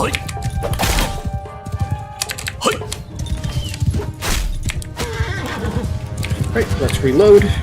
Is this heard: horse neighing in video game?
yes